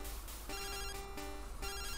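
Phone ringing in the Pokémon Fool's Gold game, a synthetic chiptune ring in bursts that repeat steadily throughout, alone with no talk.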